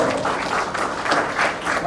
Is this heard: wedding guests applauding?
yes